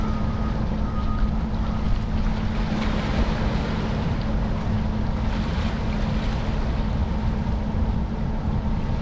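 Waterfront at Berkeley Marina in California, with a constant broadband rush of wind and waves against the shore, steady and close, with heavy wind buffeting on the microphone and no talk.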